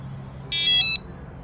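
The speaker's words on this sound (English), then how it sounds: "it's going to go ahead and make a beeping sound letting you know that it's locking" A short, loud electronic beep sequence, three quick tones run together, from an RV's electronic keypad lock locking, sounding close against a quiet background.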